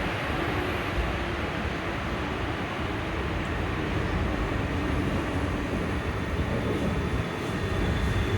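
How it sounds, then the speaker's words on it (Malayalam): A steady, loud rumble of a train running close by at a railway station, the Guruvayur train bound for Chennai, continuous broadband roar with no pauses or voices. "ഗുരുവായൂർ ട്രെയിൻ ചെന്നൈക്ക് പോകുന്നത്"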